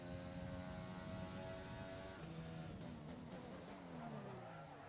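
An F1 2020 race car's engine screams at high revs, then drops in pitch as the tyres lock up under braking, a steady loud roar without talk.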